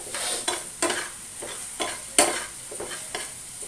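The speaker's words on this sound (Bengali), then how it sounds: "তো এই পর্যায়ে মশলাগুলো ভালো করে কষিয়ে নিতে হবে।" Spices with a little water being stir-fried in a pan for a winter flat bean and potato dish, with regular spatula scrapes and knocks over a soft, steady sizzle.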